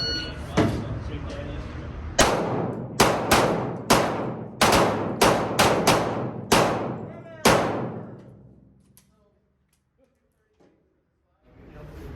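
Pistol shots from a Glock 19 in a timed shooting race, nine sharp loud reports in quick uneven succession, each ringing out briefly, followed by near silence and then a rise of background noise.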